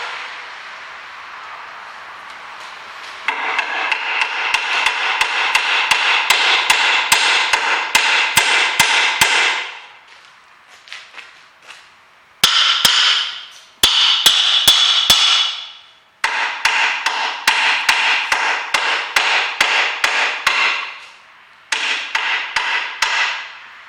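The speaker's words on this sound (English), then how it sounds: "Couple of light taps and it's now in." A hammer taps a Ford Fiesta wishbone into the bottom of the hub, sharp metallic strikes in quick repeated bursts separated by short pauses, close and loud, with a ringing hiss behind the blows.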